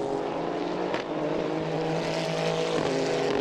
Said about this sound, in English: the leaders thread their way now through the Mistral chicane